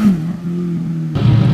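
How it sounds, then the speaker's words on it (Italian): UTV off-road vehicle engine being tested at an Italian 4x4 trophy rally stage, a steady mid-pitched idle-to-rev drone that swells louder near the end, heard close and alone. "stiamo provando il motore"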